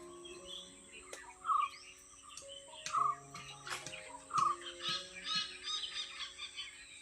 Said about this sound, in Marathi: हॉर्नबिल ओरडत ना हे,